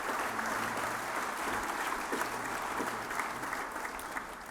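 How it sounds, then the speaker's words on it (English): Sustained applause from a luncheon audience at an award event, a dense steady wash of clapping that holds at even loudness for the whole stretch, with a faint low hum beneath and no voices over it. "give me another round of applause, please"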